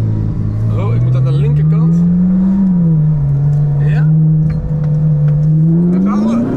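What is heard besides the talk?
car accelerating hard on a runway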